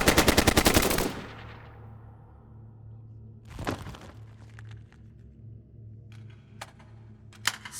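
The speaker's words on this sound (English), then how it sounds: "More hostiles opening fire." Rapid automatic gunfire in a video game firefight opens with a loud fast burst, then dies away to a low steady hum broken by a few scattered sharp shots and cracks.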